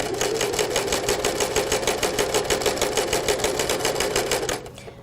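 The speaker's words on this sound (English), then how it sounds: "I'm going to put my fabric in the machine, and for the 1/4 seam allowance, I'm just going to use the edge of my presser foot. And I'm going to sew all the way across." A sewing machine stitches fabric straight across a quarter-inch seam, giving a fast, steady mechanical chatter of even needle strokes that runs loud and alone before stopping abruptly near the end.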